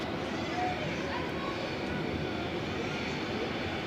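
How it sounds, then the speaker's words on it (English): An Embraer 190 jet on its takeoff roll at Zurich airport produces a steady, broad engine roar at moderate distance, droning evenly throughout without clear rises or pauses. "So it was an Embraer. Embraer 190 long range."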